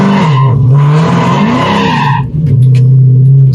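Cat-deleted Dodge Hellcat launching with loud tire squeal, a sustained screeching skid over a roaring engine whose pitch rises and falls, then briefly dips before the engine drones on, very close and loud.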